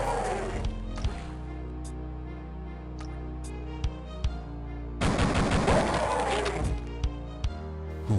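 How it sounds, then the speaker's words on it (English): RPG rockets fired at turrets in Duke Nukem 3D, with sharp separate blasts over a steady game hum and a dense burst of explosions partway through, followed by more scattered hits. "As always, the best solution is to kill them with the RPG."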